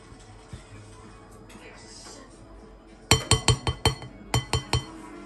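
Banana walnut bread batter is mixed in a bowl, and a utensil strikes the glass in a quick run of sharp, close clinks, then a second shorter burst, after a quieter stretch of soft handling noise.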